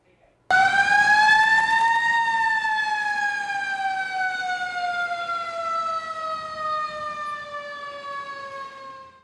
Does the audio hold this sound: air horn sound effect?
no